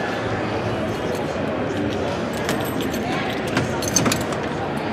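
Original keys of a 1989 OshKosh P-2526-2 snow plow truck jangle in a short metallic rattle, close up, with a brief louder clink near the end over a steady background hiss.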